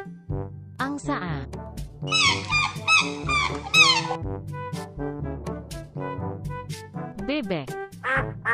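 A goose calling in a bird sound sequence: repeated harsh, nasal honks in quick irregular bursts, loud and close, with a few louder overlapping cries midway.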